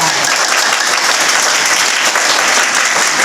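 A school audience at DAV Barkakana's Quit India program gives loud, sustained applause for the class 11 humanities girls, with dense clapping that stays even and close throughout.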